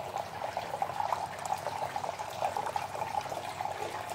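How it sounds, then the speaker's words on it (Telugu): A decorative silver water fountain trickles steadily with a soft, continuous splashing and burbling of falling water, quiet and close, with no voices. "ఆ స్టెమ్లోకించి మనకు వాటర్ అనేది ఫ్లోటింగ్ అవుతుంది ఫ్లవర్స్లో"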